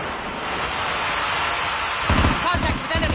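Automatic gunfire from a long-range gun in COD Mobile, loud rapid bursts breaking in over a steady game background noise near the end, with a voice talking over it.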